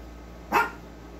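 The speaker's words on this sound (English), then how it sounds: "I hear dogs barking outside, so that's why I'm thinking there's somebody on the property." A single short dog bark rings out from outside, moderately loud and distant-sounding against a steady low background hum.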